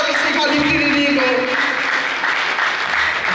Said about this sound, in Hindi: दोनों हाथ खड़े करके तालियां बजा करके